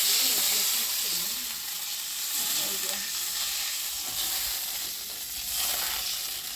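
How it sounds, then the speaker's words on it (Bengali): Water poured into a hot pan of frying spices for fish curry gives a loud, steady close sizzle and hiss that carries throughout, with only a faint voice. "এখন এখন আমি এই যে ঝোলের জন্য জল দিয়ে দেবো।"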